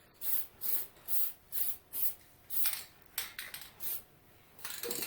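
Lacquer sprayed from an aerosol can onto a 3D-printed knob for a 1934 Grunow 501 tube radio, a series of short close hissing bursts in a quick even rhythm, followed by a few shorter, irregular puffs.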